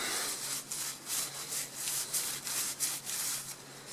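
Repeated rubbing strokes of a rag wiping plastic gauge residue off a Dodge Viper V-10 engine part sprayed with WD-40, a steady scrubbing rhythm of about a dozen close, fairly loud passes with no talk.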